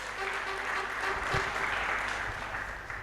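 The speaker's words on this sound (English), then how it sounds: "A round of applause for the band." Applause for the band at the Ladha za Africa award ceremony, a steady, moderately loud round of clapping lasting about three seconds with a faint hum beneath.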